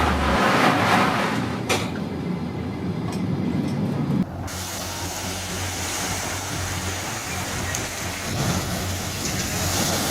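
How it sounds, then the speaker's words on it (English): Loud, continuous roaring wash of stormy surf pounding the shoreline in Greece as a storm makes landfall, with crashing water and gusting noise, dense and unbroken throughout. "Relentless waves pound the shoreline, slamming nearby boats against each other as a powerful storm makes landfall in Greece."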